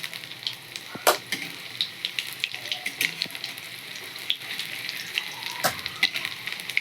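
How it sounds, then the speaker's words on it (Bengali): Mustard flower fritters sizzle in oil in a pan, a close, crackling fry with frequent sharp pops and spatters over a steady bubbling hiss. "এগুলো আমি এক পাশটা লাল করে ভেজে নেবো, তারপর এক পাশ ভাজা হয়ে গেলে আবার এক পাশটা ভেজে নেবো।"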